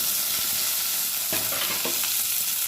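A spatula stirs pirandai with ginger, garlic, tamarind, onion and curry leaves in a hot pan, with a constant close sizzle and a couple of soft scrapes partway through.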